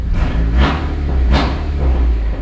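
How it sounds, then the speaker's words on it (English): A turbocharged Honda engine revs loudly and close, two rising vroom surges over a constant deep rumble. "When I rev it up"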